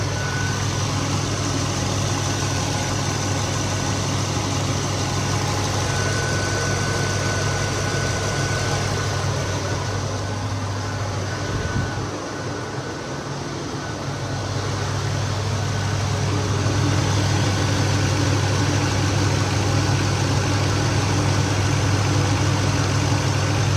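A box Chevy's engine idles with a steady low rumble, continuous and fairly loud, dipping briefly midway before settling back to the same drone; the car has a suspected fuel pump fault.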